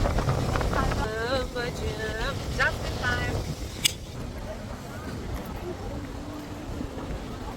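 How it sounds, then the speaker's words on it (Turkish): Strong wind buffets the microphone outdoors at a concert venue, a steady low roaring rumble throughout while someone talks over it. "Şu anda acayip süper esiyor."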